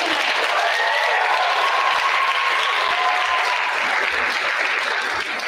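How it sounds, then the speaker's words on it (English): After a cappella singing at a school concert night, the audience applauds loudly and steadily, a dense wash of many hands clapping at once that holds from start to finish. "I think we all deserve a round of applause for some amazing singing tonight."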